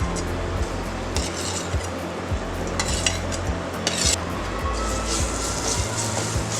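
Banana stirred and sautéed in a pan with charoli and almonds for Ganesh Chaturthi sweets, a steady soft sizzle with scraping and occasional light clinks of a spoon against the pan.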